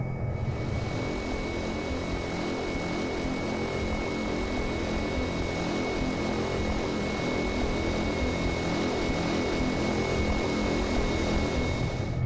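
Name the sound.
Caravan propeller aircraft taxiing, X-Plane 10 video game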